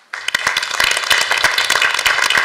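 Applause for municipal councillors at a town council installation meeting in Ploemeur, a crowd clapping steadily and loudly with dense overlapping claps throughout.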